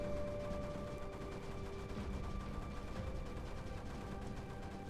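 Dense, continuous battle noise from the strategy game Creeper World 4, with rapid overlapping bursts like mortar and gunfire crackling steadily throughout, loud and unbroken, with no talking.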